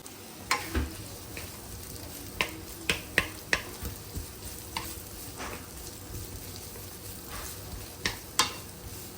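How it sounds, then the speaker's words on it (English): Soft frying sizzle of onion and capsicum in a pan with scattered sharp clicks and taps of a utensil against the pan, no talking. "So while the onion and the capsicum are frying up"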